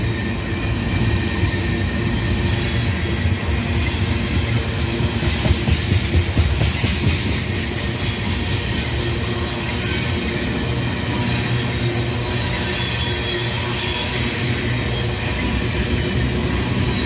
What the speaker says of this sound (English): It's a unit tanker train.